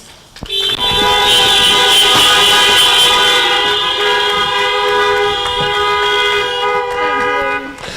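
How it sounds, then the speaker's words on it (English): Vehicle horns blare at a community action rally, merging into one loud, steady, sustained honk that holds for several seconds before cutting off. "Honk your horns"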